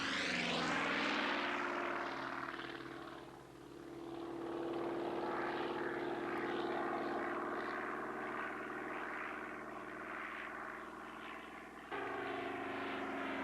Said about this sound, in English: Making a fighter pass over the field and a pull-up